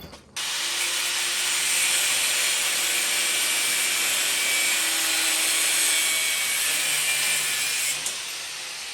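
An angle grinder fitted with a guard, working on a Willys CJ3A jeep, whines in one loud, steady, continuous run that starts abruptly and holds for several seconds before easing off.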